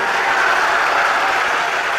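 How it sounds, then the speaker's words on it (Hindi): A large audience claps at a religious gathering in Nagpur, dense sustained applause filling the whole short stretch, with no talk. "सीताराम बोल के ताली बजाओ"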